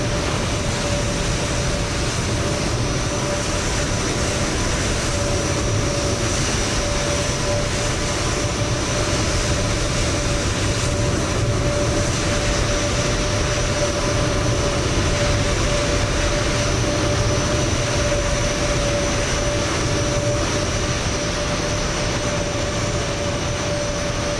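Boeing 737-800 cargo jet in Microsoft Flight Simulator 2024 spooling up for takeoff at Seattle, a loud, steady, continuous engine roar with a sustained whine held throughout.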